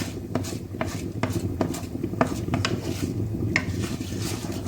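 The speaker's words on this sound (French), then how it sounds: "il faut bien mélanger" Food stirred in a cooking pan, a utensil scraping and clinking against the pan in a steady series of light taps over a constant sizzling background, close, with no talk.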